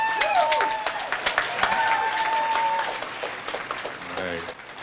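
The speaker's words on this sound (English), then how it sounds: "So UW Tacoma, another round of applause for Mr. Jayshawn Berry, ASUWT president." An audience at UW Tacoma applauds the student government president, with clapping and crowd noise at the start that thins out, mixed with voices and some tonal sounds.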